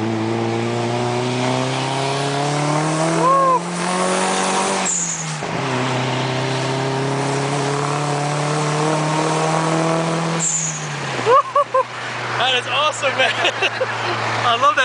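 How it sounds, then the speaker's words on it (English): A Nissan S14 240SX's SR20DET turbo engine revs up in long rising pulls, each ending in a sharp HKS Super Sequential blow-off valve release as the throttle drops, with short fluttering bursts near the end. "I love that sound. That's an HKS Super Sequential blowout."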